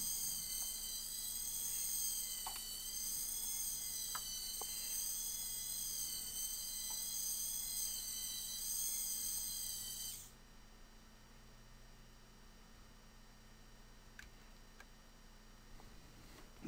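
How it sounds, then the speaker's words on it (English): Arduino-controlled continuous-rotation 360 servos driving tank treads on a bookcase tank whir with a steady high-pitched whine for about ten seconds, then cut out. Faint ticks and low hum remain afterward. "And that is how you tune servos so they work with tank treads."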